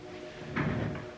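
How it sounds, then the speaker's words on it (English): Closet door swinging shut in a quiet room, a single soft thud midway through against a faint steady background hum. "My closet door was open."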